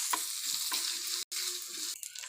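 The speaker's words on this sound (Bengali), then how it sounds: "তো আদা বাটাটা দিয়ে হালকা করে ভেজে নেব" Ginger paste frying in hot oil while being stirred, a steady close sizzle with a few scraping stirs and a brief clatter near the middle, no talking.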